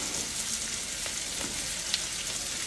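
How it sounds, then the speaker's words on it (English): Hamburger steak sizzles continuously in a hot pan, close by. Scattered small crackles and one brighter pop break through the even frying hiss, and there is no talk. "When you fry anything, it just pops everywhere."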